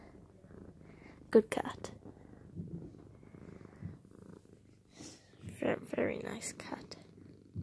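A cat purrs softly while being hugged, a low, steady rumble heard close up under quiet, affectionate whispered speech and a few louder movement noises.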